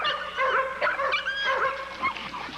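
Pit bull dog whimpering and yipping in high, wavering whines and short yelps, close and fairly steady across a few seconds, with faint background noise.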